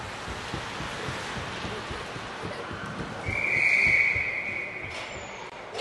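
A referee's whistle sounds once, sustained for about a second, at a youth ringette game in an arena, over steady crowd and ice noise.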